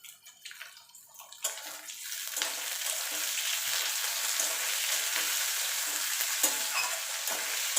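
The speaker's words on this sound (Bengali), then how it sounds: "এবার এটাকে একটুখানি ভাজা ভাজা করে নেব" Shrimp frying in a pan of hot oil, a sudden sizzle that swells and holds steady with scraping stirs and light crackles, close and alone.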